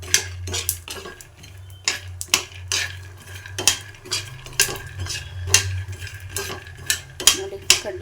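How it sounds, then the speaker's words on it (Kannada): Peanuts are roasted in a pan for a bitter gourd gojju, a spatula scraping and clanking against the metal in quick repeated strokes over a low hum, close and fairly loud with no talk. "ಇಲ್ಲಿ ಕಡಲೆ ಬೀಜನ ಹುರ್ಕೊತಾ ಇದ್ದೀನಿ"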